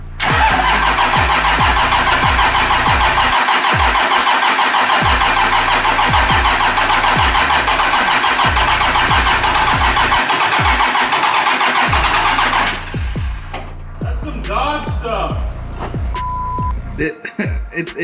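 A first-generation Cummins diesel pickup fitted with semi-truck wheels starts in a driveway. Its loud, rhythmic clatter carries steadily, then cuts out about two-thirds of the way through, leaving only faint clicks and quiet.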